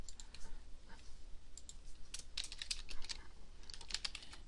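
Computer keyboard typing, a quick run of close, crisp key clicks coming in uneven bursts while text goes into the top row of a table in a word-processing document, with no voices.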